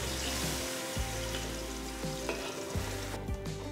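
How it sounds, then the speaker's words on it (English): Onion, ginger, garlic and green chili masala paste fries steadily in oil and ghee, a dense close sizzle punctuated by a few scraping stirs of a spoon against the pan. "Cook the masala till it's nice and brown."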